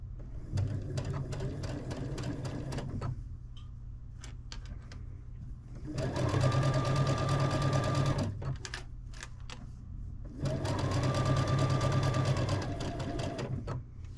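A sewing machine stitches the seam of a quilt block for an oversized baby lap quilt, with three bursts of fast rhythmic needle whirring separated by brief pauses and small clicks, close by.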